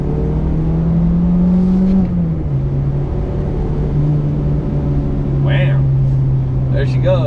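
A front-wheel-drive Mitsubishi Lancer Ralliart pulls away with a steady, loud engine drone inside the cabin; the pitch climbs, then settles into a sustained hum, and a voice is heard briefly.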